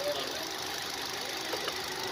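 Rebuilt 1.2-litre Kappa VTVT petrol engine in a Hyundai Grand i10, running steadily after an overhaul, a continuous close hum with faint ticking texture and no talking.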